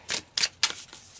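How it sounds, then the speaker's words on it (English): Tarot cards are pulled from a deck in three quick, crisp papery swipes, close and fairly loud, each with a short ruffling tail and no voices. "let's pull some more cards here and see what else is going to come out"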